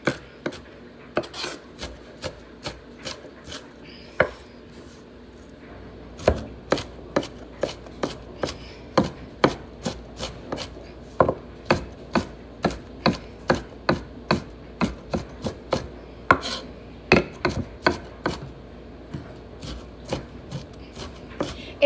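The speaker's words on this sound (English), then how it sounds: "So we got the onion chop." An onion being chopped on a board with a knife: a long run of sharp, fairly regular knocks, close and clear, with a short pause early on before the strokes pick up a quicker steady rhythm, no talking.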